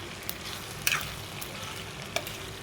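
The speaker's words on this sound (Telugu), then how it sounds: "బాగా ఏగే వరకు ఇలా తిప్పుతా మరి వేయించుకోవాలి మాడకుండా" Food fries in hot oil in a pan with salt added, a low steady sizzle with a few soft stirring scrapes and clicks, heard close and fairly quiet with no voices.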